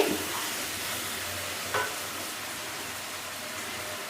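Brinjal masala curry cooking in oil in a village kitchen, with a steady soft sizzle throughout and one brief scrape of stirring partway through.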